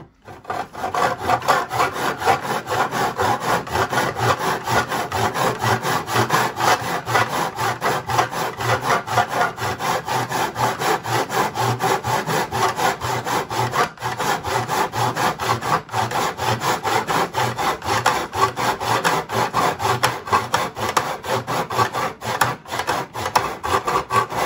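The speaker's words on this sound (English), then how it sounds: "it allows you to make a 45 degree bevel cut in your wood" A hand saw cuts a 45 degree bevel through wood held in a mitre box, with steady rhythmic back-and-forth rasping strokes, loud and close, continuing for a long stretch without talk.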